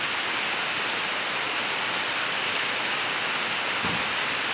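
Heavy rain pouring down outdoors, a dense, steady hiss of falling water that stays even and unbroken, with no voices.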